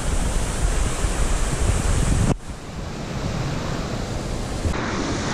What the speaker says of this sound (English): Look, another waterfall from where we came from.